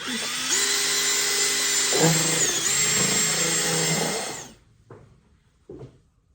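A power drill with a mixing paddle whirs steadily through epoxy resin with dye for a workbench top, its pitch shifting slightly as it runs, then stops, leaving a couple of faint knocks.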